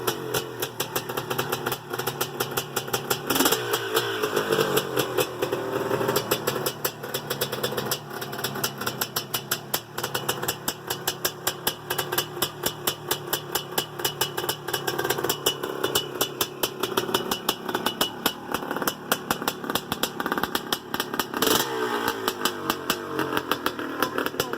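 A 1980 Yamaha YZ465 open-class motocross motorcycle engine runs steadily and loud for the whole stretch, a continuous buzzing drone with rising and falling revs and no voices.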